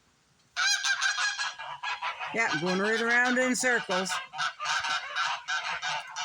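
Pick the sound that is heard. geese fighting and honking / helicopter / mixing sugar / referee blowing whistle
geese fighting and honking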